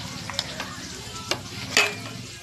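A spoon turns cooked vegetables into paneer biryani in a pot, with steady sizzling under a few scraping strokes and light metallic clinks against the pot.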